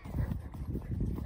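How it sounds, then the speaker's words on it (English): Horse hooves clip-clopping on a hard surface in a short, quiet, uneven burst of muffled steps. "This poor horse is going through some hard times"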